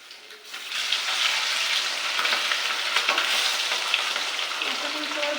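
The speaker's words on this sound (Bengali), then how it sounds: "দেখো আমি এখন মাছ ভাজছি।" Pomfret fish frying in a pan of hot oil, a dense, even sizzle that swells in after a quiet start and holds steady at close range with faint crackles.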